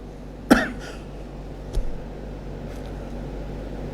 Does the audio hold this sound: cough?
yes